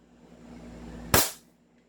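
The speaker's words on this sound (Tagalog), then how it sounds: "452 FPS para sa isang Glock top of the line. Firing!" A single sharp shot from an upgraded Glock 17 airsoft pistol rings out against a quiet indoor room, the brief crack followed by a short decaying tail and no talking.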